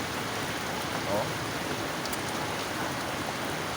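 Steady rain hisses on a street with traffic, a dense wash of noise close by, with a brief exclamation from a person.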